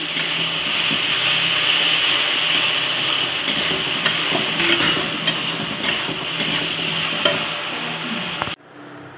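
Peanuts and black mustard seeds crackle and sizzle steadily in hot oil as a tempering, a dense, loud frying hiss lasting several seconds before cutting off abruptly.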